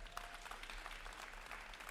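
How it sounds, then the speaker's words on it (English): A crowd claps steadily for a couple of seconds at a high school college signing event, a dense wash of applause with no voices standing out. "Big round of applause."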